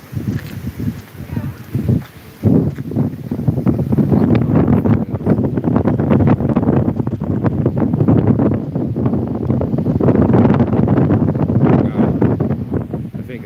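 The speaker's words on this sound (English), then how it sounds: "it's a windy day, so I'm gonna have to fucking cover my mouth" Strong wind buffets a microphone outdoors on a windy day, a loud, continuous low rumbling roar with gusty fluctuations throughout, after a brief lull near the start.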